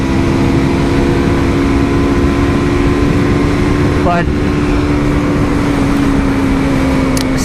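A 2019 KTM Duke 200 single-cylinder motorcycle engine hums loud and steady while riding, with a constant drone and wind noise throughout and a brief spoken word.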